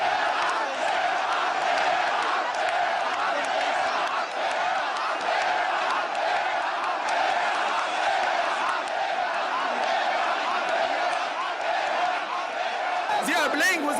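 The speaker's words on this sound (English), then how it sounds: "Suddenly a change in the crowd from attentive silence to deafening roars of go," Dense protest crowd roaring and chanting continuously at full volume in a Middle East democracy demonstration, a steady wall of voices with rhythmic chant pulses throughout, ending in a brief sharp burst.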